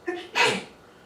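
A person close by lets out a single quick sneeze, a short breathy lead-in followed by a sharp burst, and then the room goes quiet.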